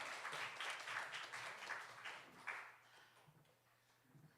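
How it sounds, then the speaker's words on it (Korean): Congregational applause for God during a Friday worship service in a church, a faint, fairly brief patter of many hands that fades out toward the end. "우리 하나님께 영광의 박수 올려드리겠습니다"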